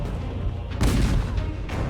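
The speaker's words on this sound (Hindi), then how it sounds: "फ्रेंच तोपों की गोलाबारी फिर से शुरू हो गई" French cannon artillery fires at the Battle of Austerlitz in 1805, with two heavy, rumbling booms about a second apart over a dense, continuous low roar.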